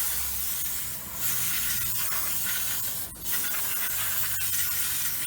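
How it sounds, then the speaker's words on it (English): Continuous hissing of brake cleaner sprayed onto the rear brake parts of a 2008 Hyundai Veracruz, close and steady with two brief dips where the spray stops momentarily. "Use some brake clean and get it all cleaned up."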